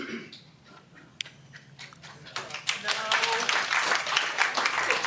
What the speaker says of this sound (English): Hold your clapping, please.